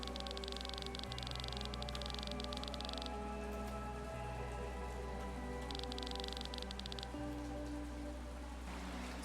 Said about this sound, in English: The rain never ends.